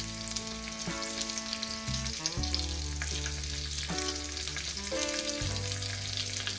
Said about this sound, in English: I'm just gonna go ahead and add some onions to the side